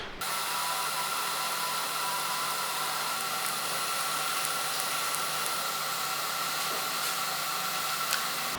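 Welding a metal fitting onto a fabricated turbo oil tank for a twin-turbo Nissan 350Z, a steady close crackling hiss with fine sputter that runs unbroken for the whole stretch, no voices.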